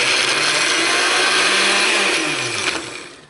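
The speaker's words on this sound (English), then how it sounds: "so I don't burn out my blender" A blender chops turmeric and ginger with olive oil, a loud, close, continuous whirring grind with a shifting motor pitch that slows and fades toward the end.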